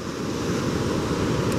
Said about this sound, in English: you can see the waves crashing in here, and this is always like this